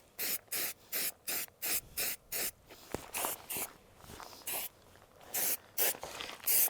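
Rifle being spray painted, a series of short bursts of aerosol hiss, each about a third of a second long, evenly spaced and close, with brief pauses between them.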